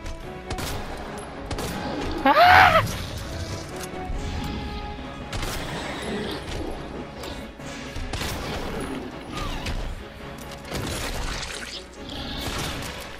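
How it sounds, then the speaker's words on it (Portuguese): Gunfire in Resident Evil 2 during a boss fight, with several sharp shots scattered across the stretch and one louder burst early on, set over a low, murky game soundscape. "Começar dando esse tiro aqui"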